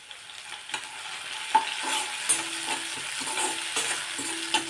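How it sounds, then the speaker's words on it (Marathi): Chopped onion and a small finely diced tomato sauté in a pan with a continuous close sizzle, while a spatula repeatedly stirs and scrapes through the mixture. "तर इथे पहा कांदा असा थोडासा परतून घ्यायचा आणि नंतर एक छोटा टोमॅटो बारीक असा चिरून टाकायचा आहे"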